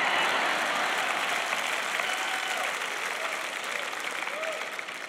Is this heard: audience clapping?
yes